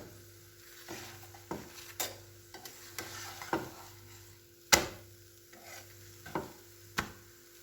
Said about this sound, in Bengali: এবার আমি একে একে তেল দিয়ে ভেজে নেব পরোটাগুলো।